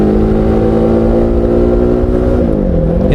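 A Royal Enfield Himalayan 450 motorcycle accelerates hard, its engine note a loud, close, steady drone that climbs and then dips briefly near the end, with no voices.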